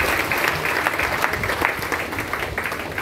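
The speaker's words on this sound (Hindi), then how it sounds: "एक बार ताली बजा लीजिए।" Audience at a business seminar claps together in a dense, steady burst of applause, loud and sustained for the whole moment with no voices on top.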